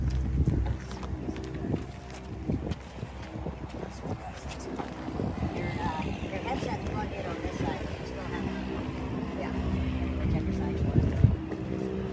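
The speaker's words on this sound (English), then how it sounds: "We got an engine behind us that just started" A low, steady aircraft engine drone rumbles throughout, mixed with wind buffeting and people talking nearby.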